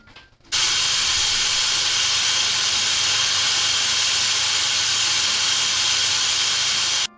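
A pressure cooker on a stove, sealed while braising pork leg, lets out a loud, steady hiss of steam that starts abruptly and holds constant without pause.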